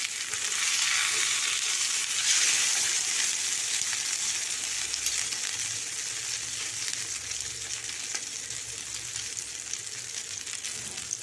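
Vanjaram (seer) fish fillets frying in a pan after being flipped, a steady, loud, continuous sizzle with crackling oil throughout and no voices.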